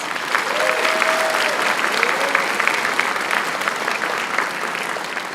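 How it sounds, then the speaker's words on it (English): Steady applause from a graduation ceremony audience thanking the Kalamazoo Promise donors, dense and sustained throughout, with a brief sustained tone, like a voice or instrument, rising above the clapping near the start. "we wish to thank the donors of the Kalamazoo Promise with a round of applause, please"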